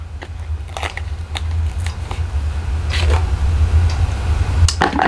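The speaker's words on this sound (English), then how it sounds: "I'm going to cut a piece of this off right across to here." Small scissors snip through a piece of designer paper for a handmade card, giving a few quick, close crisp cuts over a steady low hum.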